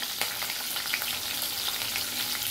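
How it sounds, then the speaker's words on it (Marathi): Green chillies fry in hot oil for a fish vegetable gravy, a dense, even, crackling sizzle heard up close and fairly loud for the whole short stretch, with no voices. "आता मी हे तेलामध्ये मिरची टाकून देणार."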